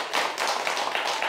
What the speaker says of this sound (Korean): 그럼 박수 한번 치시죠